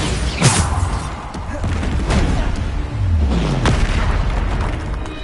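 Bombarda explosion spells cast in Hogwarts Legacy: repeated booming blasts with rumbling tails, mixed with whooshing spell effects and combat noise, loud and continuous under a voice calling out spells.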